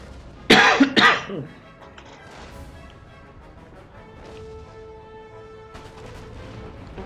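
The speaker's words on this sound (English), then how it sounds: "I can hear musketry down this end of the line." A musket volley crashes out in Empire: Total War, a loud ragged burst of several overlapping shots lasting about a second, then fading into low battlefield rumble and distant scattered noise.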